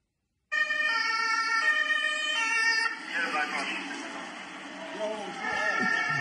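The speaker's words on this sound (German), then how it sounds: "Das war ein Krankenwagen" A German Red Cross ambulance siren wails loudly in a steady two-tone pattern as the vehicle passes close by, then blurs and drops back under street noise and a voice before swelling again.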